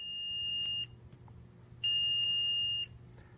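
Two long, loud electronic beeps from a Shuttlelift or Grove carry-deck crane load monitor at about 85% load, each about a second, with a steady shrill tone and a pause between them, under a low background hum.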